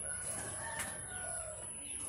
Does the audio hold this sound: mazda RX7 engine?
no